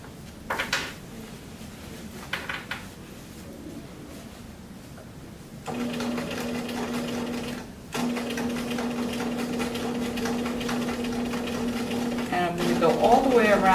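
A sewing machine top stitches around a cuff in bursts, with brief whirring runs, then a steadier humming stretch with clicks and pauses between, while a person talks over parts of it.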